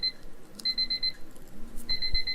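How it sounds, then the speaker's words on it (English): A household timer alarm goes off in two bursts of high, steady electronic beeping, separated by a short gap, fairly faint against a quiet room. "That was the timer to remind me to upload this video."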